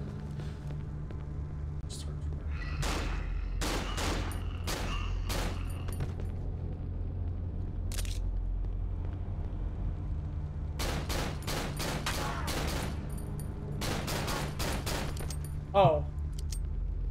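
Gunfire in the horror video game Cry of Fear comes as repeated sharp shots in clustered volleys with pauses between them, over a low droning background while a person talks.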